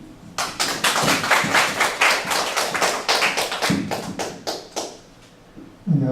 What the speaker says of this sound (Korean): 회장님을 큰 박수로 맞이하겠습니다.